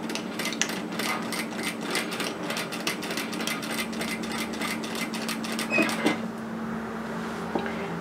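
A sewing machine stitches a 1 centimeter seam on a robe, a close, rapid rhythmic needle clatter with a steady motor hum that runs for about six seconds, then stops, leaving a faint hum.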